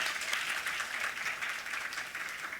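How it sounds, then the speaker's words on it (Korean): A church congregation applauding during a Sunday service, a steady wash of many hands clapping together at a moderate distance, fairly soft and sustained for the whole stretch without talk. "여러분 박수 한번 해주시겠습니까?"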